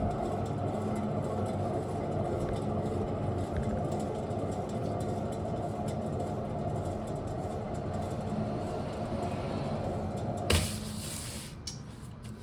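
A failing driver's side rear wheel bearing on a 2010 Buick LaCrosse gives a steady, droning road hum that holds level throughout, with a short sharp burst near the end.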